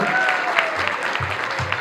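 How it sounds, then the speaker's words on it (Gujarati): An audience at a school annual day celebration claps in a steady, dense burst of applause, fairly loud and close, with a few voices faintly mixed in. "તો એકવાર ઉડાન જુનિયર ફેમિલી માટે જોરદાર તાળીઓ."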